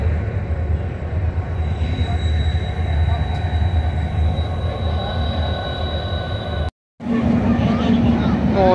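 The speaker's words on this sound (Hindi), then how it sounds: "HGMU 30 8203 लोकोमोटिव यहाँ पर मौजूद है।" An HGMU 30 diesel locomotive and trains at a crowded railway station in Pakistan give a loud, continuous engine rumble with squealing wheels and a high whine, briefly cutting out before resuming, with voices around.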